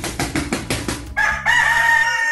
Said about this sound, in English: Do you want a rooster to wake you up early in the morning?